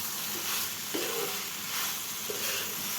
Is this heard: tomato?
yes